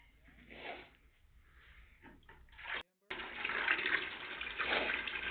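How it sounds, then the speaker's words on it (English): Water pours from a chamber down through a hose in a lab setting, a steady rushing flow that thins briefly, cuts out for a moment, then returns fuller and louder. "So we have water coming down from the chamber using the hose."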